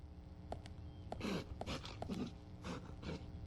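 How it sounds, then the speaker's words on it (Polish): A dog barking in the video game Deadly Premonition: The Director's Cut, several muffled barks spaced across a few seconds over a low ambient game backdrop. "Ja słyszę tutaj psa szczekającego cały czas"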